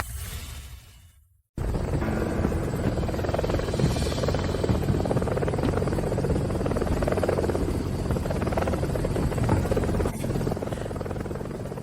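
A helicopter flying overhead, its loud, steady rotor roar cutting in abruptly after a brief quiet opening and then holding constant and close for the rest of the stretch.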